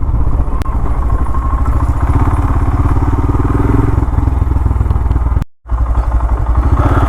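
A motorcycle rides a rough trail through ravine country, its engine running loud and close with a continuous pulsing rumble, joined by clatter and thumps from the ground and a brief dropout near the end.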